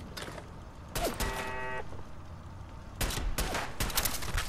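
Raiders firing guns in Fallout 4, with bursts of video-game gunfire cracking in clusters around the first second and again from three seconds on, loud and close, with a brief mechanical whine between them.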